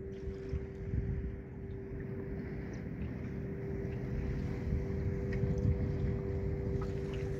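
Motorboat running steadily as it leaves the Gold Coast in Australia in the early morning, a constant engine drone with a steady hum, water wash and light wind noise throughout.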